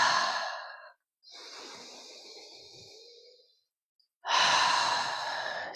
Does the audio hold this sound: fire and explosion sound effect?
no